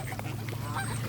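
Geese honk at close range at a marina in one brief burst over a steady low rumble.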